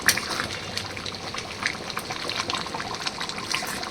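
Mutton curry simmering in the meat's own released juices in a pot gives a steady close wet bubbling and soft sizzle that runs through the whole stretch, with no voices.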